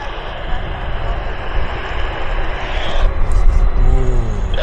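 A four-engine airliner at Vancouver airport, a loud continuous engine roar that builds toward the end, heard from fairly close without any talk.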